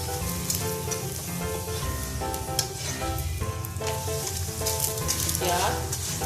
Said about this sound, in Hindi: ऑयल लगा लो, देसी घी लगा लो या डालडा घी लगा लो